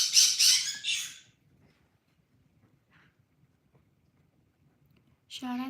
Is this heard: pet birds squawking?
yes